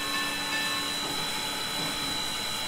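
Steady hiss and chuffing rumble from an N&W 4-8-0 Mollie steam locomotive in the Trainz 2019 game, with a constant tonal whine, heard close and even throughout with no clear beat.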